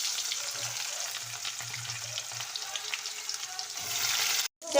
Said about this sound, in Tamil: இப்போ வெங்காயம் வதங்குது